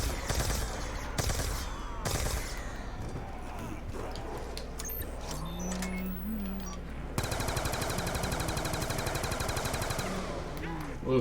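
Ray Gun Mark II bursts ring out in Black Ops 2 Zombies, rapid repeated energy shots in dense volleys amid game chaos, growing into a steady, buzzing stream of fire over the last few seconds.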